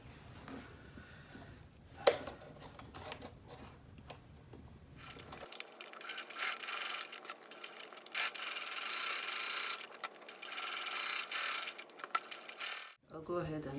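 A sewing machine stitching down a quilted fabric pencil case, a quiet rapid mechanical whir and rattle that starts after a few seconds, runs in steady bursts with a small knock near the start, and stops abruptly near the end.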